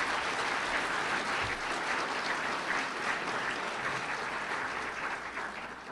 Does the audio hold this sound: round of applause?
yes